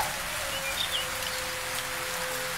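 Steady rain falls continuously as an even, dense hiss, with a faint bird chirp briefly audible in the background.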